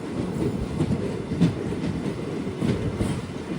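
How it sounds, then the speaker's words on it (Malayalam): The Amritha Express rolls into Ramanathapuram station with a steady rumble. Its wheels give a low clatter that holds at an even level throughout, and no voices are heard. "ട്രെയിൻ ഇപ്പോൾ ഇതാ രാമനാഥപുരം സ്റ്റേഷനിലേക്ക് എത്തുകയാണ്"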